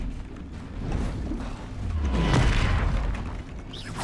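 Bombarda explosion spell cast in a Harry Potter–style video game, a deep booming blast that swells to a loud peak in the middle, with mechanical clatter and game effects around it and no talking.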